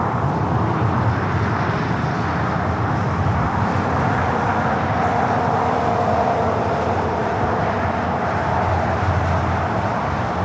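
Air Tahiti Nui flight 8, an airliner bound for Paris, departs LAX with a loud, steady broadband engine roar that swells slightly midway, heard from nearby with no speech.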